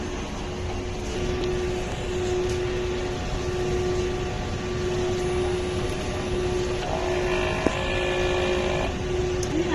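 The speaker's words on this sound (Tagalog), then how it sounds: "Ganito naman mag-head clean." A steady mechanical hum and whir from a printer running its head-cleaning cycle, continuous and fairly close, with a faint click near the end.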